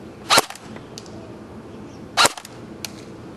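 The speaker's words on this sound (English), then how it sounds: "I'm going to do a semi-auto and a fully auto test" Dboys RK06WS AK74 airsoft rifle shooting: two sharp, loud cracks a couple of seconds apart with fainter clicks between and after, over a quiet background.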